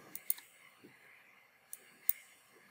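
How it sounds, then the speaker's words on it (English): Computer mouse clicks on the left button, several crisp isolated clicks spaced apart, including a quick double click, faint against a quiet background hum. "Using the left mouse button and clicking on the map to insert a node."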